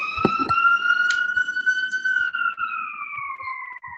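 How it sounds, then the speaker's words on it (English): Fire alarm blaring on a call, one continuous loud wailing tone that holds steady then slowly drops in pitch, with faint clicks and background noise. "it's a fire alarm."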